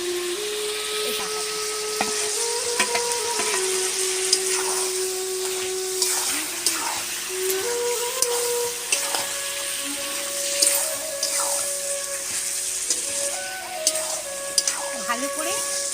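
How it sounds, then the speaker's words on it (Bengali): Chicken pieces fry in a pan for a doi chicken dish, giving a continuous sizzle broken by light stirring clicks. A tonal background melody runs through the whole clip. "ভালো করে মাংসটা একটু ভেজে নিয়ে এই পেস্টটা দিয়ে দিলাম।"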